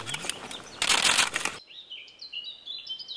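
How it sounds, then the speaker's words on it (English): Camera shutters firing in quick bursts, a rapid ripple of clicks clustered at the start, then fading into birdsong chirping in the background. "The sound of shutters firing might give some idea of the Emperor's popularity."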